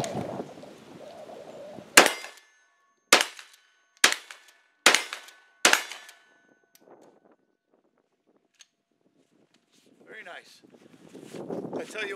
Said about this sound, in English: All right, five more rounds of buckshot.